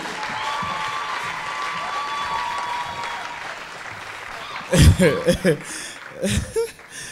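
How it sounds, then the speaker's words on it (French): After faint background noise and a voice, a burst of audience clapping breaks out, fades, then returns in a second short round with some chuckling. "On va faire un tonnerre d'applaudissements, mesdames, messieurs, pour Carles Antonio."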